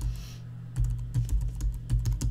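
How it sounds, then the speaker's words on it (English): Quick bursts of computer keyboard typing, crisp clicking keystrokes close up over a steady low hum, short and uneven in rhythm. "so I'm going to type in"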